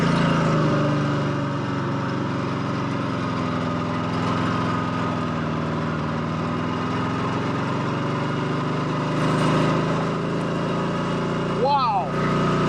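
A 1954 Harley-Davidson KH 750 motorcycle pulling away in first gear, a steady loud engine drone with a slight rise and fall in pitch, heard close with a voice briefly over it near the end.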